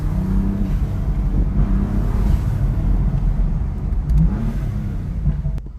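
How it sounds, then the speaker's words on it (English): A 2017 BMW M4 Competition, driven in manual, gives off a loud, steady engine drone with rising intake roar from the front, heard from inside the car as it accelerates, with no talking. "I love how you can hear all the intake noises from the front"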